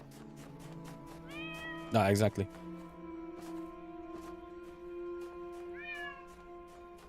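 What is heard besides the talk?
cat meowing, from the video game The Talos Principle Reawakened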